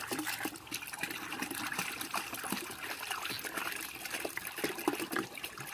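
Rice-washing water and rabbit urine are mixed with water for liquid organic fertiliser, giving a faint, continuous trickle and slosh of liquid with soft splashes throughout and no talking.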